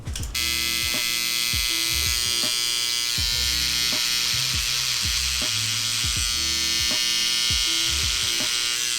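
Electric hair clippers buzz steadily and close while trimming a mustache, a loud continuous motor hum with rhythmic dips and pulses as the blades pass through the hair, with no talking.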